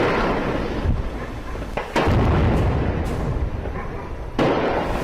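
Heavy booming blasts from an attack on a Pakistani airbase roll out in several loud, rumbling bursts with sharp onsets, dense low-end crackle filling the gaps between them.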